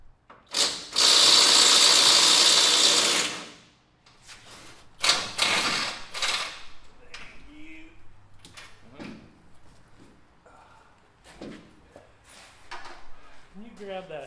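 A ratchet wrench working the steering gearbox bolts on a 1989 Chevy Suburban, with a long loud burst of rapid clicking followed by shorter ratcheting bursts, clanks and thuds while people talk in the garage.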